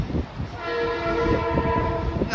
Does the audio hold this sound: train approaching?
yes